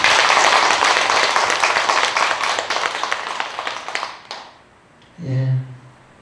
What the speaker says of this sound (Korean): 자, 우리 박수 한번 칩시다.